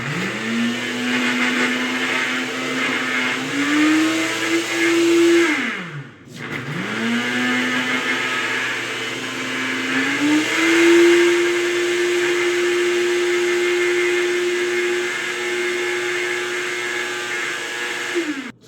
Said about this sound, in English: And then crank it up to high, blend.